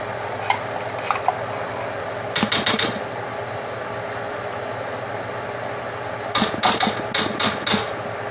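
Canned cream of mushroom soup scraped from the can into a pan for homemade chicken noodle soup, heard as scattered metallic clinks and clusters of quick scraping taps over a steady background hum.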